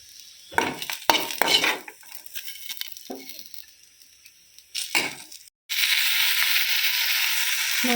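Tomatoes frying in a pan for chutney, stirred with intermittent scraping and clattering strokes, followed by a steady, loud sizzle near the end.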